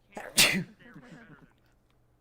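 A single sharp human sneeze bursts out close and loud, followed by a faint trailing exhale and a brief murmur, in a virtual reality community gathering.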